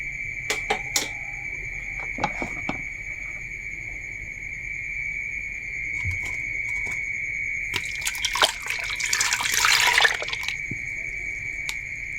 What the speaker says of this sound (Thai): แล้วก็จะใส่น้ำยานางลงไปก่อนเนาะค่ะพี่น้อง